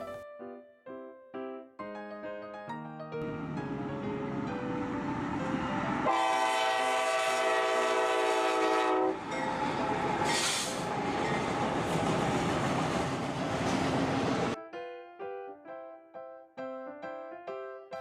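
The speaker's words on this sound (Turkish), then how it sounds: "Train." A train passes with a loud sustained horn and rumbling wagons, surrounded by short melodic tones at the start and end that sound like a synthesized toy or music jingle.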